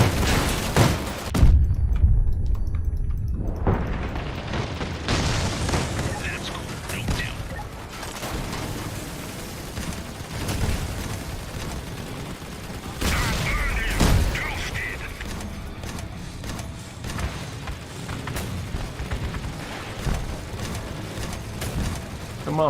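Gunfire and explosions in a shooter video game, dense bursts of shots, cracks and heavy thumps running continuously under a man's speech, with a loud booming blast near the start.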